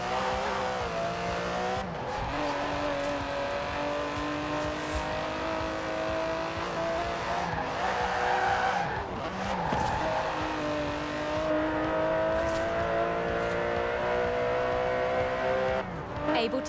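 Aston Martin DB11 with a 5.2-litre twin-turbo V12 driven in Forza Horizon 4, a continuous loud engine drone rising and falling through gear changes with occasional tire squeal, talk over it.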